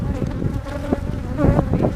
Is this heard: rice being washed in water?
no